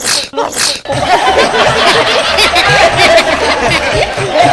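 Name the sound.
sneeze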